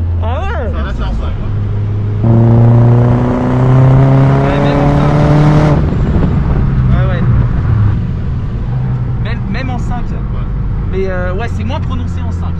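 A Mazda MPS with over 500 hp pulls hard in fifth gear, its engine note climbing steadily and loudly before the throttle lifts, with people talking in the cabin.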